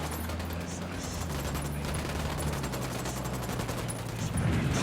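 Gunfire in the video game Ghost Recon: a dense, continuous fusillade of rapid shots and bursts that stays loud throughout, with faint voices underneath.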